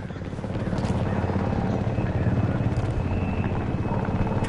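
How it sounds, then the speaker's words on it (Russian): A transport helicopter in the video game Homefront, its rotor thumping steadily and loudly throughout, swelling slightly as it draws nearer. "Транспортный вертолет!"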